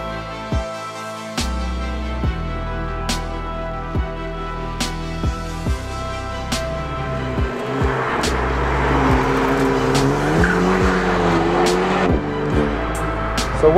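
An Alpine A110 R Turini sports car driving on a public road, its engine revving and rising through the gears with sharp gearshift blips, loud and close, the engine note building steadily toward the end.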